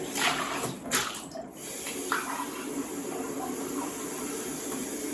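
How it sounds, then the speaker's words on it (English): Water being added to a crock pot of frozen garden vegetable stew; a rushing, hissing pour with a couple of stronger splashy surges early on, then a steady fainter stream until the end. "So then at this point I put in water."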